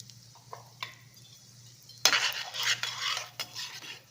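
Urad dal and asafoetida frying in a pan, a soft scrape or two, then a sudden loud sizzle and crackle with stirring noises continuing close by.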